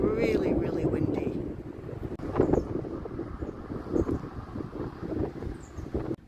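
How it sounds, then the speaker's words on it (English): Strong wind buffets the microphone in an open coastal spot near grain silos around Point Lowly, South Australia, a steady heavy rumble that sweeps on throughout with gusty swells and a voice speaking over it. "It's really windy."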